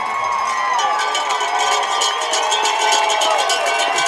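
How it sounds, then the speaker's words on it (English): An excited Escalon high school football crowd in the stands cheering with rapid clanking cowbells, a dense roar of voices under steady rhythmic metallic clatter, loud and continuous. "this Escalon crowd is getting excited"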